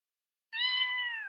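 A cat gives a single clear, close meow that starts after a moment of silence and holds steady for nearly a second.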